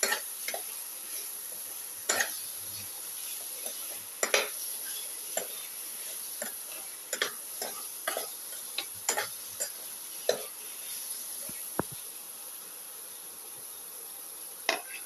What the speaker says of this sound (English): Now putting the egg, boiled egg, thoroughly salt and mix.